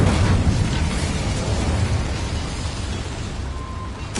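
An Incendio fire spell erupting in Hogwarts Legacy inside a small mine: a loud, continuous roaring blast of flame that rumbles steadily for several seconds, ending with a brief sharper burst.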